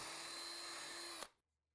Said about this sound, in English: Then drill pilot holes at each mark.